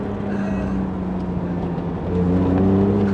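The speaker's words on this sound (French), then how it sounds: "puis le bruit du moteur" A BMW Z3 roadster's six-cylinder engine, rated 193 horsepower, runs with a steady, close drone. It swells into a stronger, higher-pitched pull toward the end as the revs rise.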